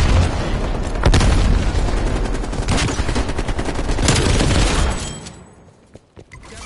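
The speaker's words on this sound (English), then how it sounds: "Enemy Prox mine destroyed" A proximity mine blows up in a video game firefight amid dense, continuous gunfire and booming blasts, with several sharp loud bursts before the noise thins out near the end.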